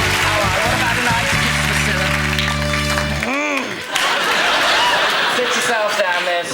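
Studio audience on a 1996 hypnosis stage show applauding a guest's entrance, with clapping and laughter under loud music that cuts off midway, then chuckling and talk carry on.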